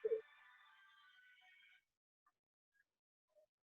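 A phone rings alone in a quiet room, one sustained electronic ring that cuts off, followed by a few faint short beeps.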